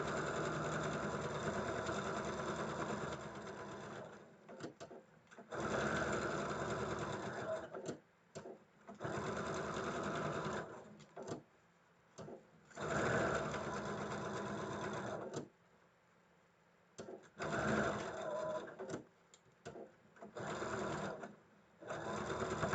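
A home sewing machine runs in several bursts of steady stitching broken by short pauses, with a quiet voice at times.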